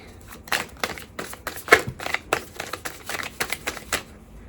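A tarot deck is shuffled up close in quick irregular bursts of crisp card riffles and slaps, with no talking.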